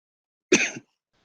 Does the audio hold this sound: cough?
yes